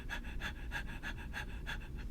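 A game master imitates a person panting really rapidly, giving a steady run of about seven breathy, rhythmic pants in just over two seconds, close and fairly quiet over a low background rumble.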